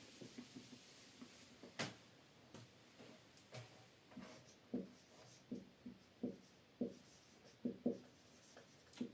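Faint strokes of writing on a board while a maths problem is solved come in a quiet, fairly regular series of short scratches and taps, about a dozen in a row, with no voices.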